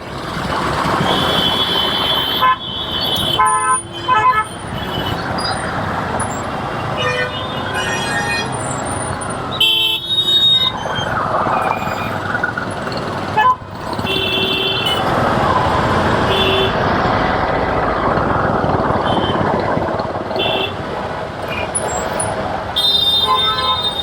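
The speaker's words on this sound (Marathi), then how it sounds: "एवढं तास बा दहा तास बाईक चालवून आल्यानंतर इथे असं ट्रॅफिक लागतंय" Road traffic on a highway stretch during a long motorbike trip toward Hampi rumbles steadily, broken by repeated horn and beep tones and a few brief chirps, with faint voices now and then.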